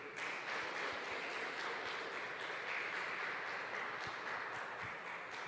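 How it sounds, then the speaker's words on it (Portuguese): A church congregation applauds during a sermon, a loud, sustained wall of clapping from many hands lasting the whole stretch, with no speech on top. "Palmas para o Cordeiro de Deus"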